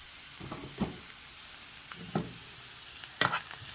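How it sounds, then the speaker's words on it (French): Onion sweating in a pan over medium heat with salt, a soft continuous sizzle broken by several spaced stirring scrapes and knocks of the spoon, close and fairly quiet, the last stroke the loudest. "Lorsque l'oignon est en train de bien suer ainsi"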